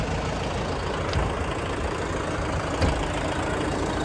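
A DTZ 5504NK tractor engine idles close by, a steady low rumbling drone with faint knocking, running alone without talk.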